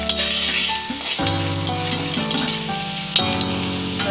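Chopped garlic fries in a hot pan, a busy sizzle with clinks of a utensil stirring against metal, close and fairly loud.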